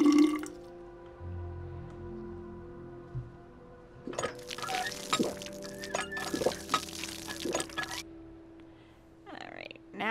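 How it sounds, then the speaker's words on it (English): Water splashing and trickling as a container is filled at a water pump in the video game We Happy Few, a few seconds of pouring with drips, faint game ambience around it. "Fill from water pump."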